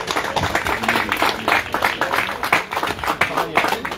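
A crowd applauding volunteers at an outdoor cyclo-cross event: uneven, fairly loud clapping carried through the whole stretch, with a voice speaking over it.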